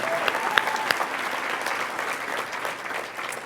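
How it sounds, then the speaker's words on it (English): An audience at an award ceremony breaks into sustained applause, a dense, loud wash of many hands clapping with a few brief cheers rising out of it, running steadily throughout. "we should cheer for you."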